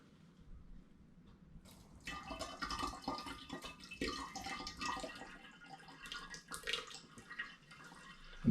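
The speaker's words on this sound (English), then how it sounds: "I've got my sieve in place on my funnel into my demijohn, and now in goes the gunk" Pineapple and hops wine sediment poured through a sieve and funnel into a demijohn, starting quiet then turning into a steady, close splashing and trickling of thick liquid.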